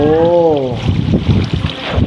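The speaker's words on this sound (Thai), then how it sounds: "มีน้ำตกไหล มีน้ำตลอดเลยอ่ะ" Waterfall water flowing and rushing as a steady broadband roar, preceded by a brief wavering tonal sound at the start, close and fairly loud with no talking.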